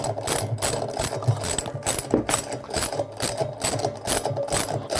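A 13mm socket wrench loosens the bolt on a washing machine's pulley wheel, a close, rapid ratcheting clatter that repeats continuously in quick mechanical pulses.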